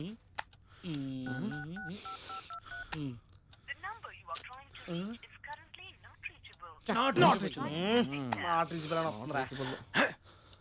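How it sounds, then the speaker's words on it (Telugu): A telephone number is dialed, giving a quick run of electronic keypad tones, followed by a voice speaking and breathing close to the microphone. "నేను వాడికి ఫోన్ చేస్తాను"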